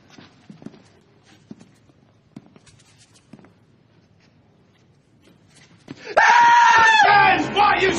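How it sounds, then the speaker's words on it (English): Men break into loud, sustained screaming after several seconds of quiet shuffling and footsteps, the yelling close and overwhelming for the last two seconds. "why are you screaming like a goddamn little girl?"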